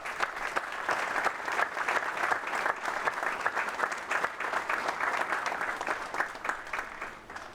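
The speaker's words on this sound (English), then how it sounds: "join me in a round of applause as we recognize our Vietnam veterans, our Gold Star families" An audience at a National Vietnam War Veterans Day ceremony applauds Vietnam veterans and Gold Star families, a sustained crowd ovation of many overlapping claps holding steady and loud before easing slightly at the end.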